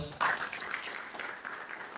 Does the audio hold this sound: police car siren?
no